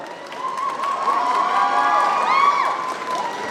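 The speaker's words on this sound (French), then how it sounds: "On peut l'applaudir très très très très très fort" Audience at a cosplay contest in Lorient cheering and applauding loudly, with sustained shouts and whoops over a continuous bed of clapping from a nearby crowd.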